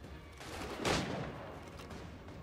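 A burst of gunfire rings out once amid a rumbling in-game battle in Assassin's Creed 3, with a soft steady background of combat noise and no talk.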